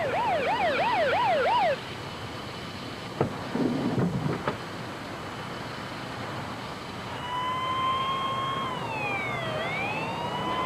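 Wailing emergency sirens sweep up and down, first a fast yelp, then brief clatter, then a long slow wail bending in pitch, loud against traffic noise.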